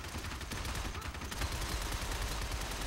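Rapid gunfire from the Shadow Complex video game, dense crackling bursts that keep up steadily and grow louder partway through, with no voices over them.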